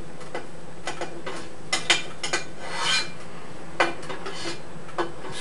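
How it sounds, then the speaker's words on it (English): A spatula scrapes melted cheese off hot grill grates while grilled burritos cook, giving short, close rasping strokes and light metallic clinks with small pauses between them. "Scrape it off with the spatula."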